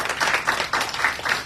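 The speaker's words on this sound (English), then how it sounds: "Everybody give them a big round of applause." An audience at a cancer prevention event claps for two women being honoured. The applause is short and fairly close, with a brisk, uneven patter of hands.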